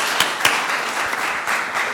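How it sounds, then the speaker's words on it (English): Steady audience applause for panelists at a sustainable-cities transport discussion, a continuous close wash of clapping with a few louder individual claps punctuating it. "can I get a round of applause for Santiago, Catherine, and Todd"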